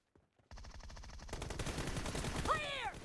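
Rapid machine-gun fire in PUBG Mobile starts abruptly after a couple of faint taps and continues as a fast, steady rattle of close shots, with a few whistling ricochet-like tones near the end and possible speech mixed in.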